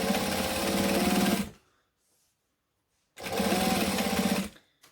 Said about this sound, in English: And I'm just stitching about 1/4 inch from the edge.